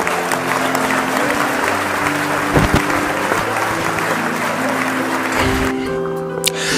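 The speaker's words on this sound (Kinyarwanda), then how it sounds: "Tumwakire n'amashyi menshi cyane" A church congregation applauds a preacher as he is welcomed forward to speak. The clapping is steady and dense, fairly loud and continuous, and a voice comes briefly through it near the end.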